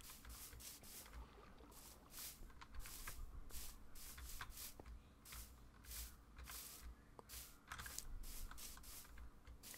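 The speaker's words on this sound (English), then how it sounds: "If you can even hear my keys and my mouse, I'm sorry. They're pretty loud." Rapid clatter of computer keyboard keys and mouse clicks while playing a Minecraft modpack, a dense stream of sharp taps under a faint steady background hum, with no voice.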